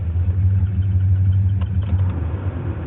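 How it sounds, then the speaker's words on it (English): An air conditioner blows loudly in a room, a steady low rumbling roar that continues unchanged throughout, close and constant, with no voices heard. "Can y'all still hear with that AC blowing?"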